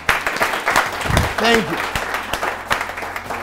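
An audience claps as a speaker, Dr. Richie, is introduced at a talk, giving a scattered, steady patter of hands. Someone speaks briefly over the applause.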